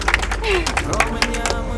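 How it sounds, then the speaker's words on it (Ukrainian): Applause for the groom Sasha at a wedding ceremony: a brief patter of claps from a small crowd, mixed with voices and background noise. "Аплодисменти Сані"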